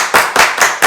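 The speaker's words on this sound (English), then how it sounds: "Everybody clap your hands." An audience claps in unison, four sharp loud claps at an even beat close to the listener.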